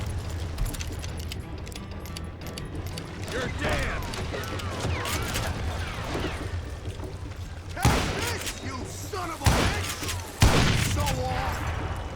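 Gun reloading and shooting in the western video game Call of Juarez: Gunslinger, with metallic reload clicks followed by several loud gunshots near the end, mixed with game sounds.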